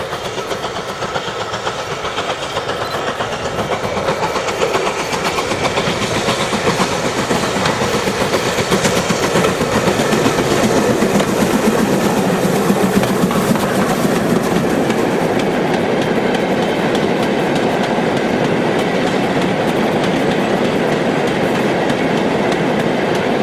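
British steam locomotive 42968 hauling the Windcutter wagon rake near Loughborough in 2007, a loud, continuous rumble and roar of the passing train with rhythmic wheel clatter building and holding throughout, no voices.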